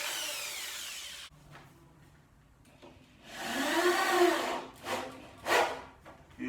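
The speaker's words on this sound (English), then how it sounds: "I will pilot drill the timber first" A power drill whirs up and bores pilot holes into pine timber, its pitch rising and falling in a few close bursts separated by brief pauses.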